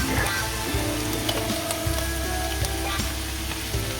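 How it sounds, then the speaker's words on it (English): Steady crackling sizzle of a fresh egg frying in a pan with canned tuna sisig, with scattered pops and light stirring noises, continuous and close throughout. "Sizzle it a little bit"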